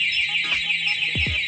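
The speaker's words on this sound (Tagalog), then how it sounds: "Automatic po yan, shutdown yung motor natin. Hindi na po gagana, mag-alarm pa." A Honda Click V3 motorcycle's two-way anti-theft alarm sounds up close as a loud, steady high-pitched electronic tone, with a few low thumps underneath.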